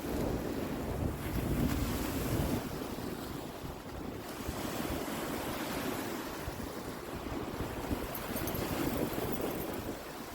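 Ocean waves where a dog named Beans plunks himself in, a continuous roar of surf with gusty wind buffeting the microphone, fairly close and steady throughout.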